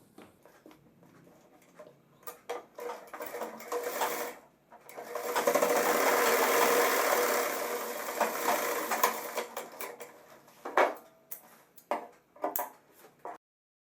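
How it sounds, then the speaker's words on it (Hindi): A sewing machine stitches a zipper onto a pair of pants, starting with scattered clicks and short runs, building to a sustained close whirring run in the middle, then trailing off into intermittent clicks and taps. "अब मैं इसकी दूसरी सिलाई लगा देता हूँ।"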